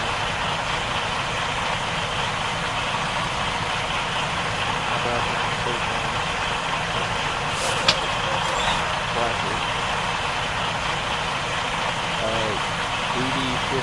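Detroit DD15 diesel engine of a truck idling in Farming Simulator 19, a steady, dense low rumble running throughout at an even level with no talk over it.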